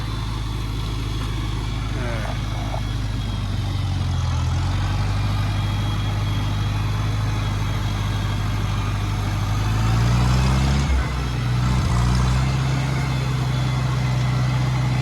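A 1963 Cub Lowboy tractor engine runs in second gear, a steady low chugging drone close by that swells briefly near the end.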